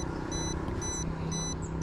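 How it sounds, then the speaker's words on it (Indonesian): A Jumper ELRS FPV drone radio remote sounds its receiver-signal-loss alarm: short, high, evenly spaced beeps in repeated bursts over a constant low mechanical hum. "Nah jadi ada suara alarm di remote kalau RX loss."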